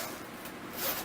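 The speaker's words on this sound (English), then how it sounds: "you got a nice zipper" Zipper pulled open around a Nintendo 2DS carrying case, a quick close rasping slide lasting about a second, rising slightly toward the end, with no talking.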